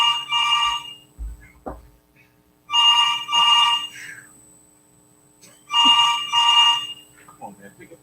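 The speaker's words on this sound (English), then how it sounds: "Pick up the phone." A telephone rings in three paired bursts, a classic double-ring pattern repeating with pauses, fairly loud and close, with faint low background sounds between rings.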